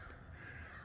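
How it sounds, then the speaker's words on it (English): Crows cawing in the distance over a garden during a nor'easter, a faint, brief burst of calls heard on their own. "So the crows are still going at it."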